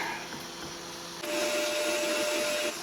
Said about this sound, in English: Just a quick deburr here.